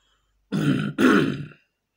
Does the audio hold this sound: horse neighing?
no